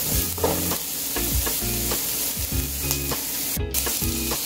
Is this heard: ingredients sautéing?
yes